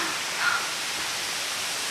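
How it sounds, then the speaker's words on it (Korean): Bongnae waterfall on Ulleungdo pours with a steady, even rush of water, a continuous broadband hiss with no break and no voices. "물소리"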